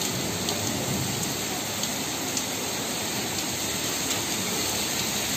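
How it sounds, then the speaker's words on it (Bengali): Heavy rain with hail pours down during a thunderstorm, a dense, steady roar with scattered sharper impacts, close and continuous throughout. "কি হারে বৃষ্টিটা হচ্ছে দেখো।"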